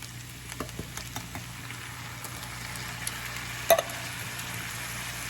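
Rice and diced tomatoes cooking in a pan for a stuffed bell pepper filling, with a soft steady sizzle, faint stirring taps and one brief louder clatter near the end, no talking.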